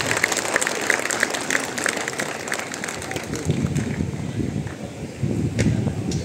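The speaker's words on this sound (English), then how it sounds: "Give them a huge round of applause." Audience at an engineering institute's gold medal felicitation ceremony claps in a sustained, fairly loud round of applause from a hall crowd, with scattered sharp claps standing out.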